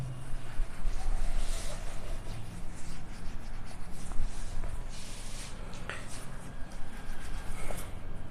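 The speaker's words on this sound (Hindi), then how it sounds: "मैं क्वेश्चन को मिटा देता हूं, थोड़ी जगह कम पड़ रही है मेरे पास" Duster or cloth rubbing across a classroom blackboard to wipe off a written maths question, a steady scratchy swishing that runs continuously at moderate level with faint room hum beneath.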